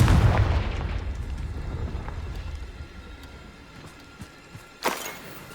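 The Confringo fire spell explodes in Hogwarts Legacy with a heavy, rumbling boom that slowly fades. A second, sharper burst follows near the end. No talking is heard.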